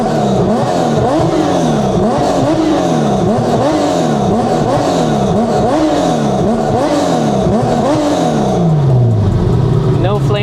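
A car engine revs rapidly again and again in a steady rhythm of rising and falling pitch, loud and close with a constant roar, ending in a final drop as the revs settle.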